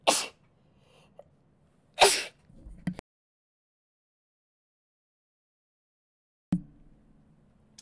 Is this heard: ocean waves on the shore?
no